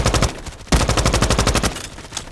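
A thirty-round gun in a Roblox shooter game fires in two rapid automatic bursts, a short one then a longer sustained string of sharp, loud, close shots with a brief pause between.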